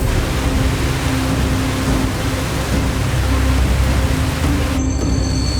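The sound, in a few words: heavy rain in Mentawai jungle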